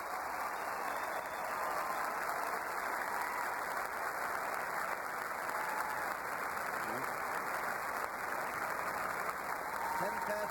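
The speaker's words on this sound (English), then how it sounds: "And now a cheer for all of them" A huge stadium crowd cheers for the competitors at the opening of the 23rd Olympiad on a California evening, a dense, continuous roar of applause and voices that stays loud and steady throughout.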